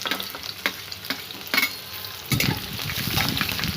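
Onions sizzle softly in hot oil, broken by a few sharp stirring clatters, then the frying swells louder and busier toward the end.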